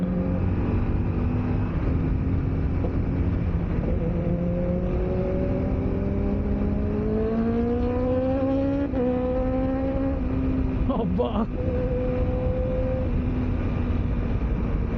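An engine drones and revs up, pitch climbing steadily then dropping and rising again, loud and continuous with a rough, whining tone.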